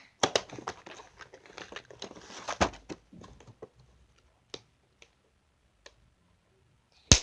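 Crinkling plastic and cardboard packaging as a toy doctor set is unwrapped: close, dense rustling bursts at first, then sparse isolated crackles and ticks with quiet gaps, ending in a sharp rustle.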